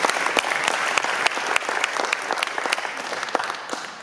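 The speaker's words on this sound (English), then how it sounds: "Great round of applause for all 3 of them" Audience applause for three new Rotarians at a Rotary club lunch, a sustained wash of many hands clapping with sharper individual claps poking through, tapering slightly at the end.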